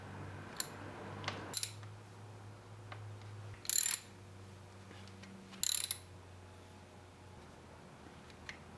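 A torque wrench clicks and ratchets on Honda CBR 250R motorcycle bolts: faint mechanical ticks under a low hum, with two brief louder bursts of rasping clatter.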